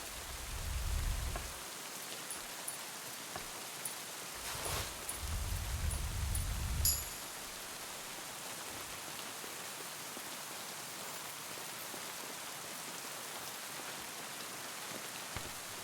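Rain falls steadily in the video game Kingdom Come Deliverance II, a soft continuous hiss of drops heard alone, with a few brief low thumps early on.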